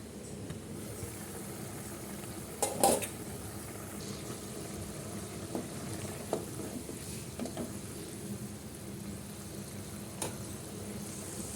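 Meat is stirred with spices in a pan while it cooks for a beef and potato dish, giving a low, steady sizzle with scattered scraping knocks of a spoon, faint and without speech.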